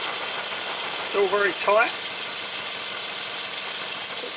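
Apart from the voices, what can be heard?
GWR 14xx tank locomotive engine running on compressed air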